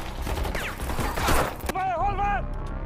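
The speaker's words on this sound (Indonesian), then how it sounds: "Bangladesh yang akhirnya membantu Michael, akhirnya komplotan mafia ini tersudut di sebuah lokasi setelah terjadinya aksi kejar-kejaran dan baku tembak." Gunfire rings out in a film shootout as police corner a mafia gang: a loud, dense burst of shots for under two seconds, followed by a brief raised voice.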